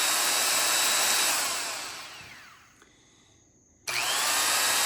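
A Hercules die grinder runs at a steady high whine, then spins down to near silence before abruptly starting up again at full speed, loud and close with no talk.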